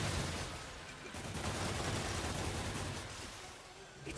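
Turret gunfire in Marvel's Spider-Man (2018), a faint, rapid, continuous burst of automatic shots with low rumbling impacts, distant and steady for about four seconds.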